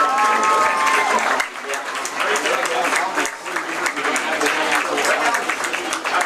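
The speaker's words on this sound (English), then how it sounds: "Let's give a big round of applause for" Audience applause and crowd noise for senior cheerleaders at a high school football game, a steady, dense wash of clapping that runs throughout at full loudness.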